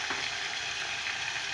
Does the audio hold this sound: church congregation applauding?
no